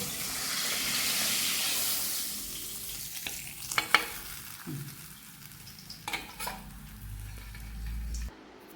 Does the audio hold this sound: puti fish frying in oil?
yes